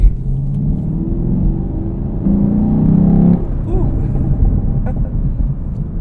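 A Camaro SS engine with aftermarket exhausts rumbles and revs loudly from inside the cabin, its deep throaty roar rising and falling, with a voice speaking briefly over it.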